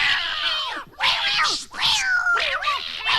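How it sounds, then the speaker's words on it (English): Cats in the 1955 Disney film Lady and the Tramp scream and yowl loudly in several overlapping, rising and falling wails, close and frantic, with short gaps between outbursts. "when those cats saw Lady, they started to scream and yell and run all over the place"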